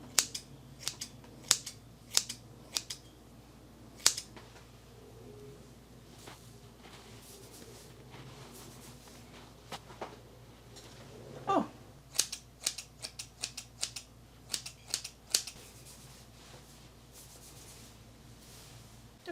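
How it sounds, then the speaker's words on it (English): Scissors point cut hair in a home haircut, making scattered crisp snips close by, some single and some in quick clusters, against a quiet room with no talking. "Tutorial said to line up the front and the back with point cutting."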